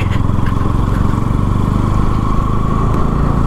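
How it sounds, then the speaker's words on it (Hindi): A modified Bajaj Pulsar NS200 motorcycle engine running steadily at idle, with a close, continuous, even drone and a slight vibration-like buzz that lasts throughout, with no talk. "बाकी बाइक क्या ही बढ़िया चल रही है,"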